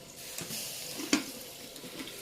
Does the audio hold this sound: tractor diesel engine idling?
no